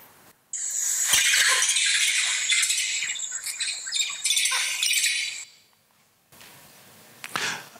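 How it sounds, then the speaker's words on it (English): A vervet monkey's leopard alarm call, loud raspy squawking barks in a dense run lasting about five seconds, then a pause and a shorter burst, close by. "And this is a leopard alarm call."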